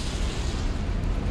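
An Incendio fire spell cast in Hogwarts Legacy, a dense, roaring whoosh of flame that sustains evenly and loudly throughout.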